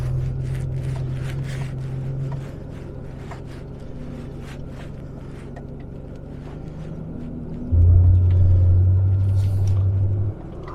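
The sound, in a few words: Range Rover P38 engine braking downhill in snow, low gear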